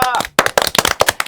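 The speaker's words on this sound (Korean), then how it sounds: "박수! 와!" A studio audience on a Korean political talk show claps and cheers in a short, loud burst of sharp, uneven claps, with a voice audible at the very start and a brief gap before the clapping resumes.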